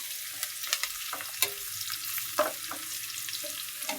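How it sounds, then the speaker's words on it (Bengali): Onions and chilies frying in hot oil for a curry, a steady soft sizzle with a few sharper crackles and stirring scrapes, close and alone. "তরকারি রান্না করার জন্য পেঁয়াজ মরিচ তেলে ভেজে নিয়ে নিচ্ছি।"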